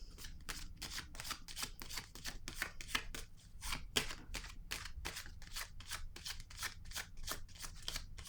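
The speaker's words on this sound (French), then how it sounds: "Je vais piger une autre carte." Playing cards are drawn and handled from a deck during a tarot-style reading, giving rapid, regular papery flicks and riffles that run steadily and close throughout, with no talking.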